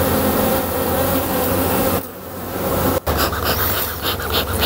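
Honeybees buzz steadily around a beehive, a dense close-up hum that thins briefly midway before a soft knock and a return to full, busy droning.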